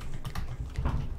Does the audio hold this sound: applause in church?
no